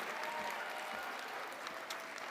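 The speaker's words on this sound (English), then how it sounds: "can we give a round of applause to our Associate, Bachelor, and Master of Science Direct Entry in Nursing graduates?" Graduates of associate, bachelor's and direct-entry master's nursing programs receive a steady round of applause at a pinning ceremony, a dense, even wash of clapping held at a moderate, somewhat distant level throughout.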